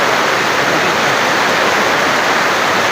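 Floodwater pours and rushes steadily during heavy, unrelenting rain, a dense continuous roar that stays loud and close throughout with no voices.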